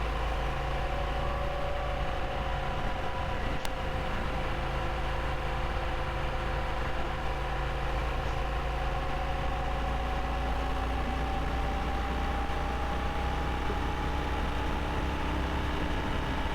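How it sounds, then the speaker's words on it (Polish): A Honda Africa Twin DCT motorcycle engine running while riding, a steady droning hum with constant wind and road noise and no talking. "Mam nadzieję, że silnik też się dobrze, dźwięk silnika nagra."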